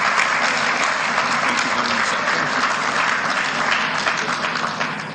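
A conference hall audience at a Light Up Southeast launch event in Enugu gives an honourable minister a round of applause after his speech, steady close clapping throughout that fades slightly at the end.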